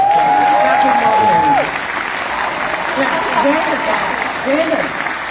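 Audience applause for actor Patrick Muldoon at a Starship Troopers panel at Liverpool Comic Con, a loud sustained wash of clapping from a large crowd that carries on steadily, with a brief tone sounding over the start.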